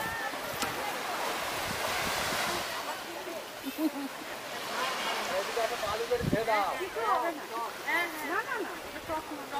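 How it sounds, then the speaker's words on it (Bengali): Ocean waves wash steadily at Munda Pahar beach in the Andaman Islands, a continuous surf roar with wind buffeting the microphone, while a person talks over it throughout. "দেখে দেখুন জলের ঢেউ খেলে উঠে উঠেছে"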